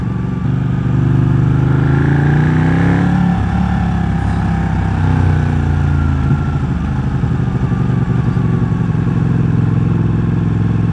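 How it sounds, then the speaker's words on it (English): A Ducati 1199 Panigale superbike of about 195 horsepower runs loud and close, its steady engine note rising and falling in one rev before settling back to a constant drone. "Distinctive note of a Ducati, who doesn't love that?"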